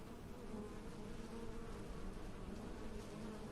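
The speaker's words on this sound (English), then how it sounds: "I hear bees." Steady bee buzzing drones in Powerwash Simulator, a continuous close insect hum with no pauses and no talk over it.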